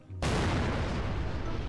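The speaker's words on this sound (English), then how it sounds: "So this is like a large scale of firecrackers." Large batch of firecrackers going off in the Garry's Mod video game: a sudden, loud, dense barrage of cracks and booms that lasts about a second and a half, then cuts off.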